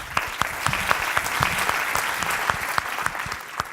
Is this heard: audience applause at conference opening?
yes